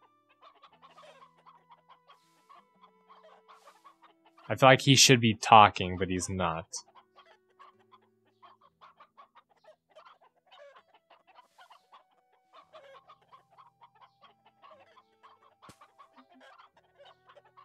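Chickens in the online game Black Desert Online cluck in a short, loud, close burst, with quieter scattered clucks before and after and a person talking at times.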